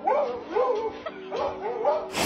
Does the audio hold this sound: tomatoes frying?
no